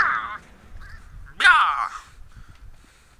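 Crows caw twice in Resident Evil 5, a harsh call, a short pause, then a louder raspy caw, with faint background sounds between them.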